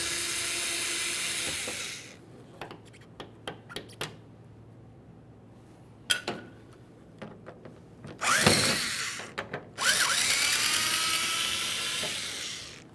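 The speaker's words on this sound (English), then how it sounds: "we can continue on to removing all 4 of our Phillips head screws" A power drill spins out Phillips head screws from a 1998–2011 Ford Ranger tail light: a loud whir at the start, then clicks and handling noises, then two more close, strong bursts of drilling.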